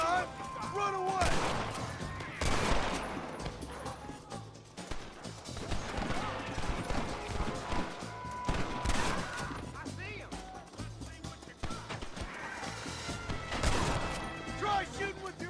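Gunfire in the video game Red Dead Redemption comes as several sharp, loud bursts of shots and cracks spread over the scene, with music and voices mixed among them.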